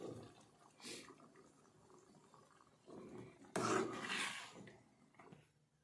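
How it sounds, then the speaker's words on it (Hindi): Two cups of water are poured into cooked moong dal, a splashing, gurgling pour that swells briefly and then surges louder near the end, fairly close and without talk over it. "अब इसमें ये वाले 2 कप पानी ऐड कर"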